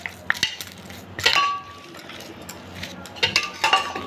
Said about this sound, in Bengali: এবার দেবো ভিজিয়ে রাখা ছোলা, সব কিছু দিয়ে ভালো করে মাখিয়ে নেব।